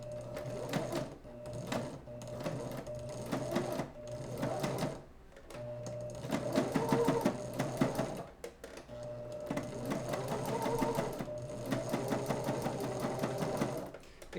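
A sewing machine runs a straight stitch on Spider-Man costume gloves (Amazing Spider-Man 1 replica), whirring in several steady bursts with short pauses between, close and fairly loud, with no talk over it.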